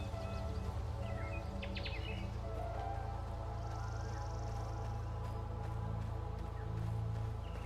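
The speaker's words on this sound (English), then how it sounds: "I can even hear I can even hear birds, but I just don't see them" Soft bird chirps sit in the outdoor ambience of the video game Oxenfree II, a few short high tweets over a steady low background hum.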